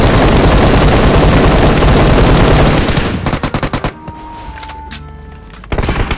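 Loud, dense automatic gunfire in the mobile battle royale game PUBG Mobile, continuous for about three seconds, then spaced bursts, a brief lull with faint game tones, and a renewed volley.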